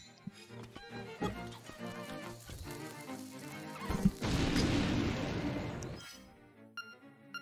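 A bomb blows up in Zelda: Link's Awakening on Switch: a sharp thud, then a loud, wide burst of noise that rumbles on for about two seconds over the game's background music before dying away.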